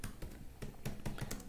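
Soft, quick keystrokes on a computer keyboard while typing Java code, a short irregular run of close taps.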